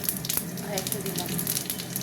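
Two dried red chillies and five-spice tempering hitting hot oil, a crackling close-up sizzle with sharp pops scattered throughout.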